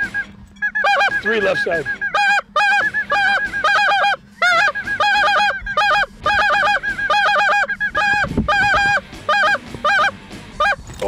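Canada geese and snow geese honk loudly and repeatedly in dense overlapping bursts during a waterfowl hunt on the Manitoba flyway, with someone speaking briefly among the calls.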